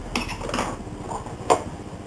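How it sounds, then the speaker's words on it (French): Kitchen utensils including a wooden spoon being handled, giving a couple of brief knocks and clatters, with one sharper clack near the end; no talking. "Une cuillère en bois."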